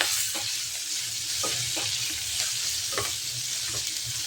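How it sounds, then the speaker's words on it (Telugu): Onion, potato and green chilies fry in a pan with curry leaves and turmeric, a steady close sizzle broken by a few scraping stirs, with no talk over it. "ఇవి గోల్డెన్ కలర్ వచ్చేంత వరకు వీటిని ఫ్రై చేసుకోవాలి"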